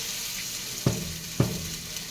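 Chopped onion drops into hot oil with garlic and cumin, two sharp sizzling bursts over a steady background hiss of frying.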